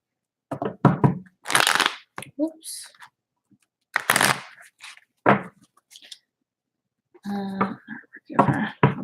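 Tarot cards are shuffled in short rustling bursts, several quick riffles spaced across the stretch, with a person talking between and over them.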